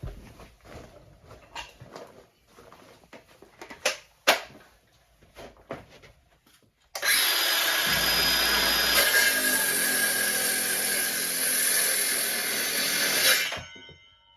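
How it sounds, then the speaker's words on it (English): A Craftsman 20V cordless circular saw starts up and cuts through wood in one loud, steady whine lasting several seconds, preceded by quieter handling knocks and clatter. "And also the circular saw."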